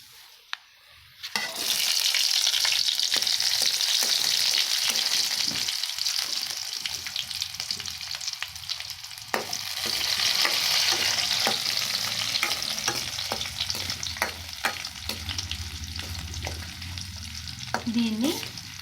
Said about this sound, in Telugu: దీన్ని బాగా ఎర్రగా, ఉల్లిపాయ బాగా ఎర్రగా మగ్గే వరకు వేపుకోవాలి.